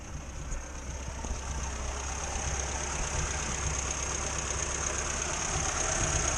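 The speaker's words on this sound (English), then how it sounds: "Seems to be revving okay now." Engine of a 1962 Morris Minor that has been running poorly, settling into a steady idle with a constant mechanical hum and a high whine, moderately close and without voices.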